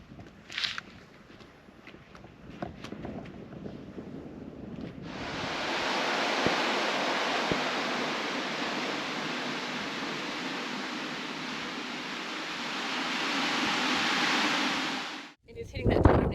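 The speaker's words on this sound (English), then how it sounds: "but it is pretty windy" Strong wind roars across the exposed coastline at Steep Point, Australia's most westerly point, a loud steady rush buffeting the microphone for about ten seconds after some quieter opening moments with brief voices.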